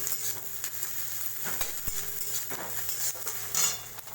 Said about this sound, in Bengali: লঙ্কা কুচিটা দিয়ে দিলাম। একটু নাড়া চপ করে ভেজে নেব।